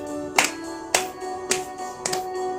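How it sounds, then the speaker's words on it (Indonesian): Sharp, evenly spaced hand claps, four or five in steady rhythm, ring out over sustained music at a children's Sunday school gathering in church. "Tepuk tangan ya adik-adik."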